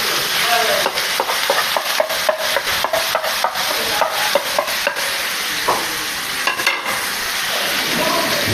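Kofta mince with finely chopped onion is stirred in a hot pan, with a busy, close sizzle and frequent rhythmic scraping strokes of the spoon running throughout.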